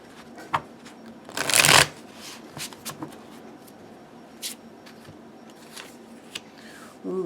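A tarot deck is riffled in one brisk, close shuffle, followed by quieter taps and soft card handling.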